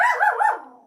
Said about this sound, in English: That's our dog, Silas.